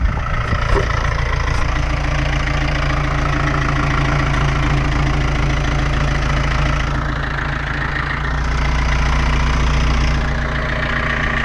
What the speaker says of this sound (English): this here is an SBT engine